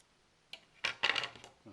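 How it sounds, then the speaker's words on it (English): Paracord strand being cut down short while building a chainmail-style paracord piece: a brief tap, then a quick cluster of small crisp snips and clicks at close range, without talk. "I want to cut that one down."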